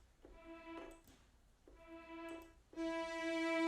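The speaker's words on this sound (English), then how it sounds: "that's the sound of celli" Cellos from a multi-timbral virtual instrument play sustained bowed notes, two short phrases and then a fuller held chord, quiet and clean with no talking.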